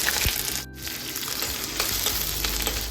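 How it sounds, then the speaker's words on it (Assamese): Onion and garlic frying in hot oil with nigella seeds and cumin while dal is being cooked: a steady, close, loud sizzle with crackling spatters and no voices. "এতিয়া পিঁয়াজ আৰু নহৰু অকণমান দি দিছোঁ"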